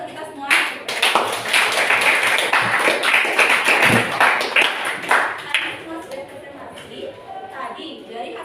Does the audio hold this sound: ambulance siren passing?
no